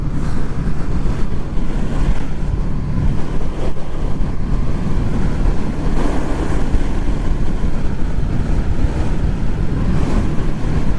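Strong wind buffets the microphone while riding a Honda VFR800 motorcycle on an exposed moorland road, a loud, continuous roar and rumble without letup and without any talking.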